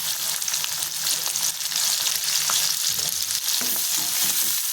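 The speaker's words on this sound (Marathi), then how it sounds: "इथे कढाईमध्ये तेल घेतलंय छान गरम झालेलं आहे लसूण टाकून घेते आणि कांदा" Garlic and onion frying in hot oil in a kadhai, a dense, continuous sizzle close up with light stirring underneath and no talk.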